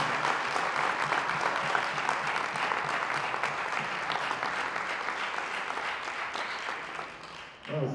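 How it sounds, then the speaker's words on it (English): A large audience gives a sustained, dense round of applause for graduating high school seniors at a signing event. It stays loud and steady, then thins out briefly near the end and swells again. "One more huge round of applause for these"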